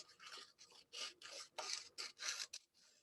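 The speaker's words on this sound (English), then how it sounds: "I'm just going to use the map and just kind of cut some of these strips" Scissors cutting strips from a paper map, a series of close, quiet rasping snips in a steady rhythm of about eight cuts.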